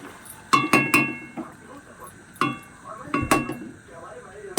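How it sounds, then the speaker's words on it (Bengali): Cooked shrimp and vegetable curry is tipped from a cooking pot into a serving dish, with a series of sharp, close metallic clinks and scrapes of a spoon against the pot. "আমি একটা পাত্রের মধ্যে ঢেলে নিচ্ছি।"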